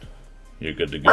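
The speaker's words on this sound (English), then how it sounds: "Sorry, that's my dog." A household dog barks a few times close by, short loud yaps that come in quick succession and overlap with someone talking.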